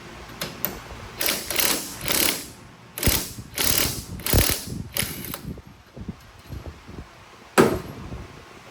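Ratchet clicking as a drive shaft bolt is tightened on a Porsche 928 during torque tube bearing work, several close bursts of rapid pawl clicks with short pauses, then one final burst after a quiet gap.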